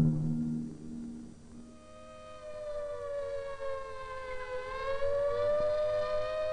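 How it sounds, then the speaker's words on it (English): Memorial sirens wail across Jerusalem, a distant civil-defense tone that rises, holds a long steady howl and dips slightly, sounding alone over faint background hum. "Jerusalem pauses while the sirens wail a lament for the fallen."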